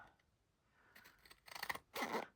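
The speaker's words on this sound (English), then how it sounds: "The scissors are going through both." Scissors snip through two stacked pieces of paper, a few close crisp cuts that grow louder toward the end, with no talking.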